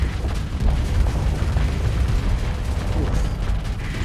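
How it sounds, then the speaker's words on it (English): Heavy artillery-round explosions in the space combat game Starsector, a continuous loud low rumble of booming blasts throughout with no clear gaps. "Big ass explosions."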